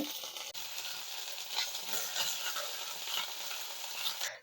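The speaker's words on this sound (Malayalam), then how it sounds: "രണ്ട് ഉണക്കമുളക് നുറുക്കിയതും കുറച്ച് കറിവേപ്പിലയും കൂടി ഇട്ട് ജസ്റ്റ് ഒന്ന് മൂപ്പിക്കുക" A steady, hissing sizzle of dried red chillies and curry leaves frying in hot oil, continuous and fairly close, with faint stirring clinks.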